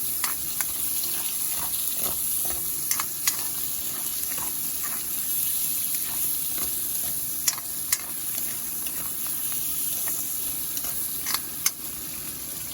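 Chicken bones frying in hot oil, a steady close hiss and sizzle running throughout with a few faint stirring clicks and no talking.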